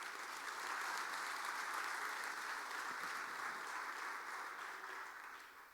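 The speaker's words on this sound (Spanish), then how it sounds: "Dale una ofrenda de palmas al Señor" A church congregation gives a long round of clapping as an offering of praise during a service, a thick, even roar of hands that holds steady and then eases off slightly at the end.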